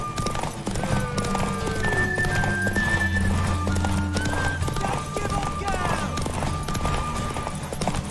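Horse hooves clip-clop at a run with a whinny, mixed into a busy scene of voices, clashing and music, all loud and continuous.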